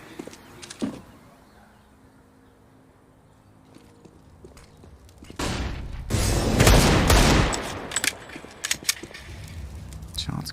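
Gunfire in a professional Counter-Strike match, Deagle pistols trading shots: a quiet stretch with faint game sounds, then a loud dense burst of shooting and impacts from about five seconds on, with commentary voices underneath.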